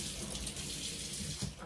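Tap water runs steadily over a piece of fruit being washed at a kitchen sink, a continuous close splashing hiss lasting under two seconds with no talking.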